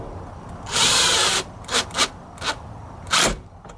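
A power drill drives a screw into plastic on a 1997-2004 Ford F-150 during blower motor replacement, with one long whirring burst followed by several short trigger pulses, close and loud.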